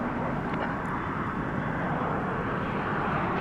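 American Airlines passenger jet at DFW airport, a loud, steady broadband jet engine roar without breaks, heard from fairly close.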